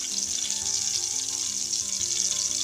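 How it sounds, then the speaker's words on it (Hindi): Two pinches of asafoetida (hing) sizzle in hot oil left from frying tinda, a steady bright crackling fry that continues throughout and stays close and fairly loud, with no talking. "इसी ऑयल में 2 पिंच हींग डाल देंगे"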